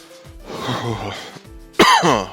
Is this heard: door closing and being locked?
no